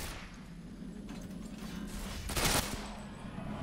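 A headshot in the shooter game Ghost Recon Phantoms: a single sharp, loud gunshot cracks out over a low, steady game background.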